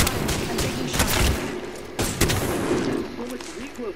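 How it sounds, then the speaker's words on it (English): Gunshots at a firing range in a game, several sharp reports spaced irregularly with echoing tails over a steady background rumble, while people talk throughout. "I'm taking shots."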